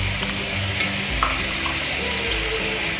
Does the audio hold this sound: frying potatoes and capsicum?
yes